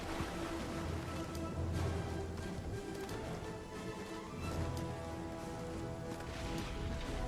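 Heavy rain and flooding water in the video game LEGO Fortnite, a dense, steady wash of rushing water and falling rain filling the whole stretch, with no voices over it.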